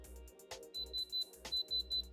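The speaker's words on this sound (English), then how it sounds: "If I press the tip on the glass, the scale of this should go all the way to amber or red and start beeping." A hardness tester pressed on a watch's sapphire crystal emits a series of short high beeps, three quick pulses then three more, faint and close, with soft clicking underneath.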